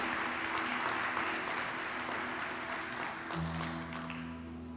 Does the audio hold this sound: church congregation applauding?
yes